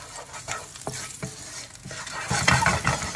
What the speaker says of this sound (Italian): aggiungo gli spicchietti d'aglio e faccio rosolare